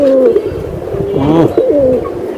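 Giribaz pigeons coo up close, a loud, throaty, wavering call that swells in the middle and trails off, heard clearly with only a little background noise.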